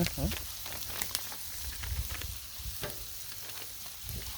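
Beef stir fry noodles sizzling on a Blackstone griddle, a steady moderate hiss with scattered spatula scrapes and taps close by, a voice briefly audible underneath.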